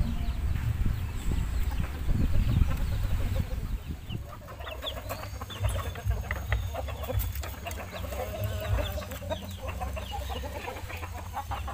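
A flock of chickens clucks and squawks close by in a farm setting, a busy, continuous chatter of overlapping clucks over low background rumble throughout, with no speech.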